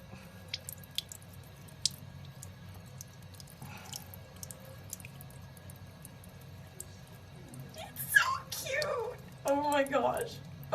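Water drips from a kitchen sink tap while a snail drinks from it. Sparse, faint, sharp ticks sound over a quiet background, and a voice speaks briefly near the end.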